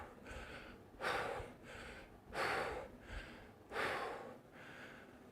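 Three deep, rhythmic breaths during a kettlebell workout, each a loud rushing exhale with quieter inhales between, close and steady with no talking.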